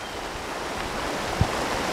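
A waterfall and rapids on a river rush in a steady, dense, loud roar of broadband water noise throughout, with no voices.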